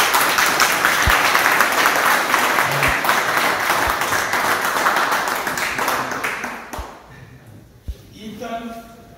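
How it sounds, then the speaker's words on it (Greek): An audience applauds a beloved former school teacher at a reunion of old high school classmates, dense sustained clapping close by that thins out and fades after several seconds, with a few scattered voices as it dies away. "Θέλω ένα χειροκρότημα."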